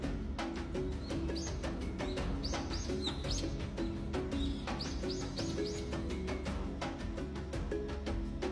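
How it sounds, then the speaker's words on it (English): Nocturnal birds calling across an African savanna at night, a steady stream of short repeated chirps and calls layered over a constant low background hum, fairly close and continuous throughout. "the air fills with the calls of nocturnal birds"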